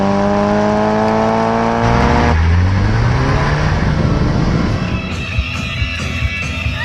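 A Scion FR-S with an aftermarket exhaust revs up loud and close, its engine pitch sweeping upward, then the revs drop and settle into a rough, rumbling idle.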